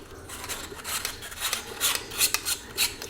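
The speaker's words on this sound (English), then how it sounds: "So obviously these just thread on to where your emitter is." Metal parts of an aluminum lightsaber hilt scrape and grind as a blade is threaded onto the emitter, a close, rasping series of rubbing strokes that grows slightly louder.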